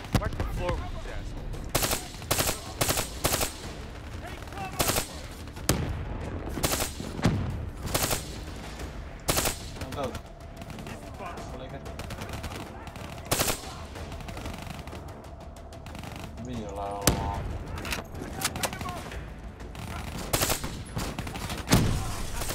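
Rapid machine-gun bursts and single gunshots from the video game Black Ops 3 crack loudly in repeated volleys across the whole stretch, with short pauses between, over a steady background rumble and faint voices.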